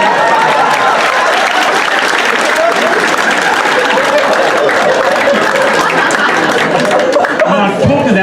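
A comedy club audience in Ottawa breaks into sustained, dense applause for a woman brought up from the crowd, with scattered chuckles, and a voice comes in near the end.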